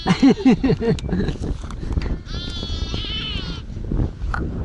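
Newborn lambs and sheep bleat in short, high, wavering cries, loud and close at first, then a longer strained bleat midway, with murmured talk and rustling around them on a sunny farm path.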